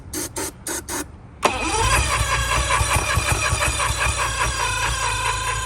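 A boat engine cranks over in short bursts, then catches and runs roughly with a steady close-up drone, struggling with a fuel delivery problem.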